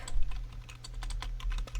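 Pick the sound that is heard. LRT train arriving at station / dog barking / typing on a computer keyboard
typing on a computer keyboard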